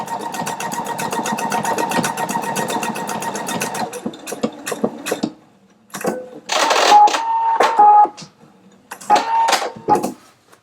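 A Pfaff Quilt Expression 720 sewing machine stitches a decorative pattern, starting with a steady rapid run of needle strokes and then shifting to short bursts separated by pauses, close and clear.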